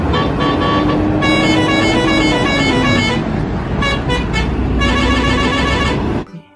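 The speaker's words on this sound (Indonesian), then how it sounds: "yang ini ada truk tangki" A toy tanker truck plays loud electronic horn toots and a siren-like tone in repeated bursts, steady throughout, then stops abruptly near the end.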